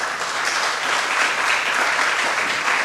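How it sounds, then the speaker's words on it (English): Steady, dense applause fills the room for the board at a Boys & Girls Club of Harlem event. It stays loud and continuous throughout with no talking. "give a round of applause to our board"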